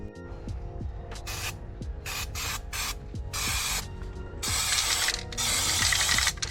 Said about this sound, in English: I'm about to lay down the first coat of paint.